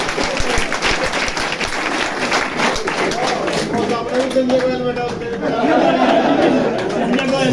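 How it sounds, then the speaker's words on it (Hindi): Audience at a Hindi poetry gathering (kavi sammelan) breaking into sustained applause amid crowd chatter, the clapping dense and steady throughout while voices murmur underneath. "हाथ खड़े करके एक बार तालियां बजाओ दिल के साथ"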